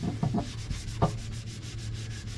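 Sandpaper rubbing back and forth across a small painted part, a close, steady scratchy rasp with a few sharper strokes at the start and no talking.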